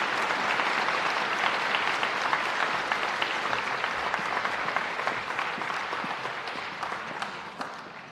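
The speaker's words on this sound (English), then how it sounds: "let's give a round of applause to our English and Lotte department students" An audience at a high school senior awards ceremony claps for the English and languages department students, a dense round of applause that gradually thins and fades toward the end.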